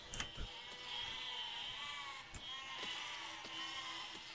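Sheep in the game Besiege bleat over a steady mechanical hum, with several quiet, wavering cries spread across the stretch and a few sharp clicks between them.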